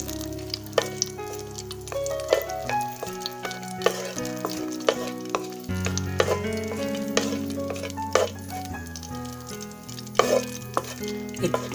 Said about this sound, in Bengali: ছেড়ে দেওয়ার পরে একটু গরম হলেই আমি এতে শুকনো লঙ্কাটা ছেড়ে দিলাম